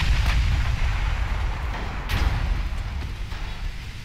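Distant 9-inch naval guns boom in the Ultimate Admiral Dreadnoughts naval battle game. Two or three muffled reports rise above a steady low rumble of sea and engine ambience, with no talking.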